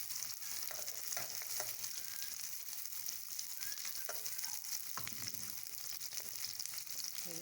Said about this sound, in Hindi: अब हमारा घी गर्म हो चुका है, इसमें हम प्याज शामिल करेंगे।